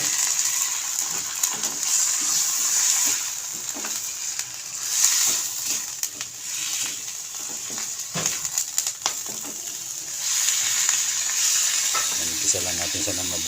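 Chicken pieces sizzle steadily in a hot pan for chicken curry, a continuous bright frying hiss with occasional stirring scrapes and clicks, loud and close throughout.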